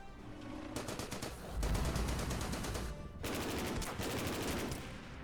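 Tank in the strategy video game Order of Battle: Burma Road attacking an enemy unit, heard as loud bursts of rapid automatic gunfire and booming impacts, two dense volleys separated by a heavy low rumble, with no talking.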